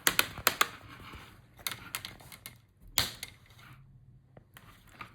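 Plastic front screen bezel of an Acer Nitro 5 AN515-57 laptop being pried loose, giving a run of sharp clicks and snaps, several close together at the start, then scattered pops with one loud crack midway, close and alone.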